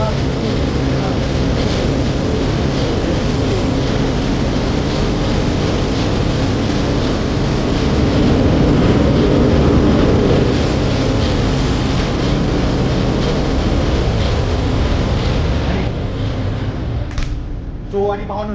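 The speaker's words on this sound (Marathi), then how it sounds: "सो भावना अशा प्रकारचं एवढं मोठं इंजिन आमच्या या जहाजाचं आहे" Huge marine engine of a large ship running in its engine room on the second deck, a dense, loud, constant mechanical roar with someone talking over it, fading out near the end.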